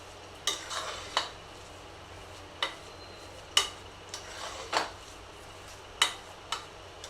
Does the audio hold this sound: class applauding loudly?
no